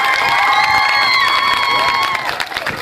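At an outdoor children's harvest festival in Pașcani, a crowd cheers and claps as white doves are released, with high children's shouts and voices over scattered clapping that eases toward the end.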